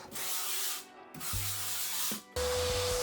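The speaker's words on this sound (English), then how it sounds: "Now I'm using a wire brush to score it" A wire brush scrapes back and forth across a foam board in three long, harsh rasping strokes, close and fairly loud.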